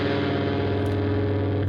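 A distorted electric guitar holds a harsh, dissonant tritone (flatted fifth) interval, ringing steadily with a touch of reverb.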